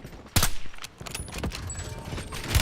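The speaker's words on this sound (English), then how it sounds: "Taking effective fire!" Bursts of video game gunfire, several sharp shots and short volleys close by among other game noise, with no talk.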